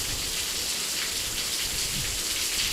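Steady rain falls in a dense, even hiss of drops hitting surfaces, heard up close and uninterrupted, with no voices.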